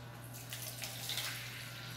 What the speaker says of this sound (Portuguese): Então eu vou colocar aqui agora um pouquinho de água